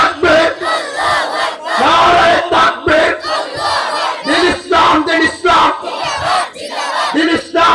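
A large gathering at a Bangla religious sermon chants Allahu Akbar in loud, rhythmic unison, with repeated surging call-and-response shouts close and forceful throughout.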